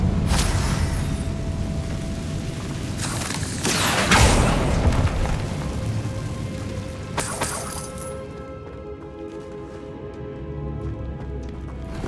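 A Confringo blast spell from Hogwarts Legacy erupts in loud, crackling bursts around four seconds and again near seven, amid a dense rumbling game soundscape and background music.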